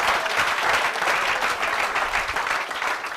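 Loud, sustained audience applause fills the room, a dense, steady wash of many hands clapping together without break for the whole stretch.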